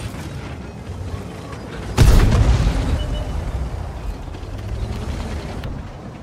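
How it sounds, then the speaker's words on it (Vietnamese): A tank's 100mm cannon fires in the World of Tanks video game, a single loud boom with a rumbling tail rising out of steady battle and engine noise. "Pháo 100mm của mình xuyên được con S1 này."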